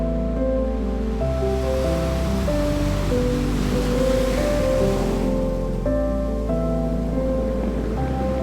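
Surf washing onto a black volcanic sand beach in the Azores, a steady broadband roar of breaking waves with a low tonal hum running underneath, continuous and fairly loud with no voices.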